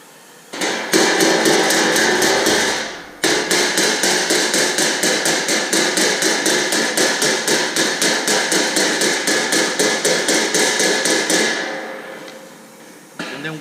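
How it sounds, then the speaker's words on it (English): A hammer striking torch-heated metal in a rapid, steady run of sharp metallic blows, loud and close, with a brief pause before a longer series of evenly spaced strikes that then fades out. "and then you come with your hammer"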